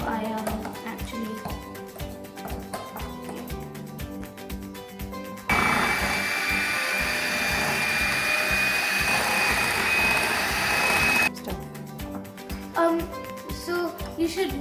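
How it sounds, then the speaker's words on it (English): An electric whisk beats vegan chocolate cake batter in a bowl, a steady loud motor whine with a high tone running about six seconds, with background music before and after it. "Now what I'm going to do is get an electric whisk. So I'm just going to give it a quick whisk"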